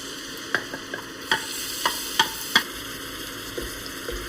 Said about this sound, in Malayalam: ഈ എണ്ണയിലേക്ക് ഈ ചെമ്മീൻ ഇട്ട് കൊടുക്കാം